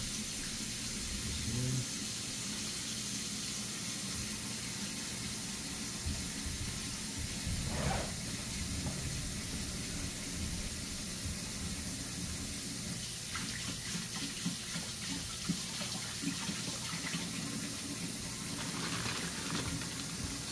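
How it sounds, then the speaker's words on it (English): Tap water runs steadily into a sink as it fills, a continuous close hiss and splash with slight gurgling changes throughout, no talking. "sink and fill it with water."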